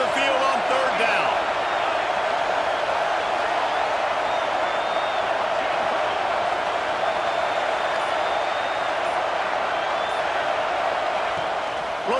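Home crowd roaring in a football video game on a defensive third down, a loud, sustained stadium roar lasting the whole stretch with faint whistles and shouts, and a commentator talking over it.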